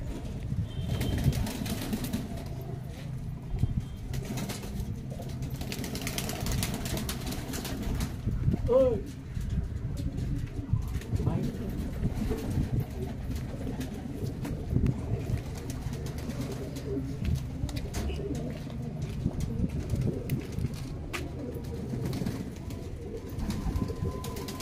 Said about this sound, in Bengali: এই জনিতে একটি মাদি পায়রা দেখাচ্ছে